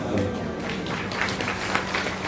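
An audience at a Hindi religious discourse claps together in a dense, continuous wash of applause, fairly faint and steady throughout.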